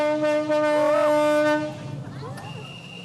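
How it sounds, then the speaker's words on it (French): A locomotive on a rail line backs up to couple onto a wagon loaded with stones, giving a loud sustained harmonic tone like a horn or whistle that cuts out midway, leaving quieter rumbling rail noise. "Roger vient accrocher la locomotive à ce wagon rempli de pierres"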